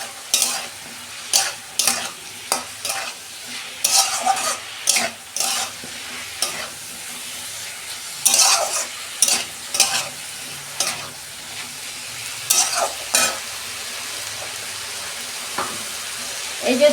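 Potato and eggplant with leafy greens fry in a pan, a steady low sizzle broken by repeated sharp scraping stirs at an irregular rhythm, close up.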